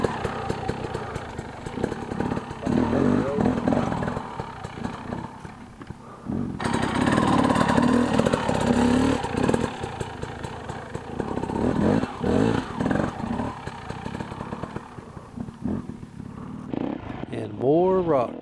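Enduro motorcycle engine revving and labouring over a rock section, loud and uneven with bursts of throttle throughout, and a voice talking over it.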